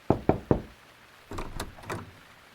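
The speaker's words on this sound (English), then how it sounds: "A police officer knocked at the door." Three firm knocks on a door sound close and distinct in a quick rhythm, followed by quieter shuffling and door movement in a staged scene where a police officer arrives at a house.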